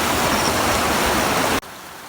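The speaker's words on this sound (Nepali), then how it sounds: "यो चाहिँ खरे खोला हाम्रै गाउँतिरबाटको मुहान हो" The Khare Khola mountain stream gives a dense, loud rushing wash of flowing water that cuts off abruptly after about a second and a half to a quieter hiss.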